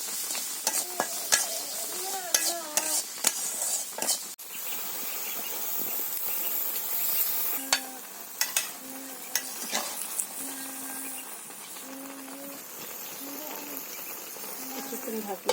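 Ground spice paste with green chilies frying in oil, a steady sizzle and hiss with stirring scrapes, while a voice speaks intermittently over it.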